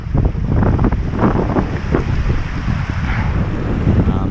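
Strong wind buffets the microphone on an exposed mountain trek at Sylarna, a loud, constant low roar with gusty rumbling throughout and no other sounds.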